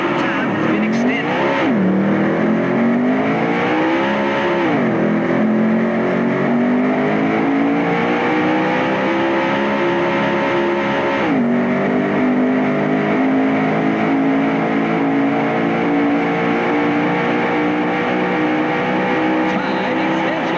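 A race car engine revs steadily in a 1990s racing video game. The whine is loud and continuous, rising and falling in pitch as it shifts through the gears.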